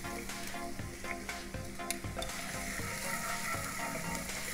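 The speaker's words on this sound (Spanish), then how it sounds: "En un sartén grande vamos a poner un chorrito de aceite y" Chopped garlic sizzles in a splash of oil in a large frying pan while cooking shrimp rice, a steady crackling fry with scattered metallic scrapes and clinks of a utensil against the pan.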